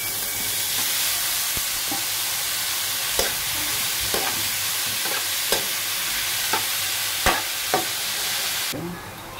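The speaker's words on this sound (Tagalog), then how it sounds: "Igisa natin. Mushroom." Mushrooms sautéing in a pan for a simple soup give a steady, loud sizzle, with a spatula scraping and tapping the pan several times in an irregular rhythm before the sound cuts off near the end.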